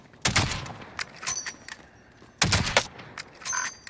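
Gunfire in a Warzone match with an HDR sniper rifle: several sharp loud cracks in two clusters, with faint pings and short quieter shots between them, and no talk.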